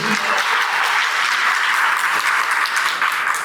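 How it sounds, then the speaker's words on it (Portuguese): An audience at a lecture applauding a participant, steady, full clapping from many hands that carries evenly without a break. "Uma salva de palmas para o Henrique."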